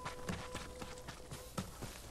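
Horse hooves in Ghost of Tsushima, a run of a few loose, uneven hoof thuds close up, with a couple of heavier strikes over a steady game ambience.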